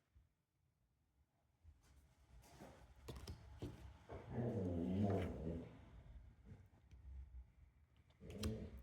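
Dog growling and grumbling in frustration as a cat leaves, a series of low, rough rumbles and short whines at close range, fairly quiet and building in the middle before easing off.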